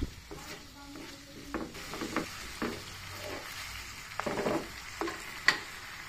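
Mussels in a sauce seasoned with oyster sauce, pepper and fish sauce are stirred in a pan, with a low simmering sizzle and scattered utensil scrapes and knocks, quiet and close.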